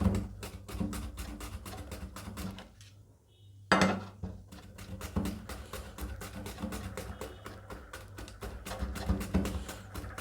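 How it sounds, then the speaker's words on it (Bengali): A carrot chopped on a board with a knife for a salad, in rapid, even, close knocks that keep going throughout, stopping briefly for about a second before the steady chopping resumes. "এভাবে একটা গাজর নিয়ে নিয়েছি, তো এটাও আমি এভাবে একটু কুচি করে নিব"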